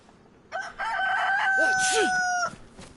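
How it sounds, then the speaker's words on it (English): Chicken in the survival game DayZ, a loud drawn-out crowing call with warbling clucks in the middle, close by over quiet outdoor ambience. "I hear another chicken."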